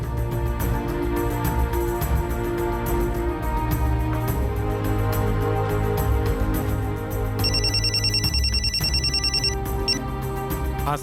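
A telephone rings with a steady electronic trill for a couple of seconds, rising above loud, dramatic background music in a crime drama scene.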